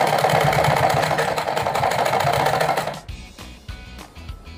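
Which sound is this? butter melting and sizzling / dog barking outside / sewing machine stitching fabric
sewing machine stitching fabric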